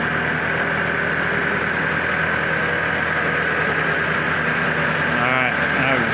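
A neighbor's tractor engine runs steadily nearby while a 1948 Ford truck cab is moved, giving a continuous idling rumble with a droning hum that holds at an even level throughout.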